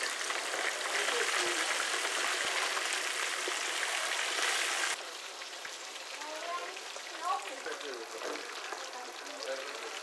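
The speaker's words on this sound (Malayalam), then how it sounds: "3 എണ്ണം എണ്ണയ്ക്കകത്ത് നല്ലപോലെ മുങ്ങി കിടന്ന് വേവണം." Kerala river fish, three pieces submerged in hot oil, sizzle in a steady crackling hiss on low heat; the frying grows quieter midway as a voice talks over it.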